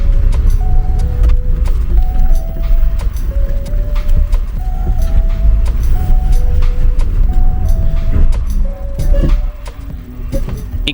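A car rolls along after its seized brake caliper has been repaired, with a steady road rumble and brief, repeated whining squeaks rising and falling throughout.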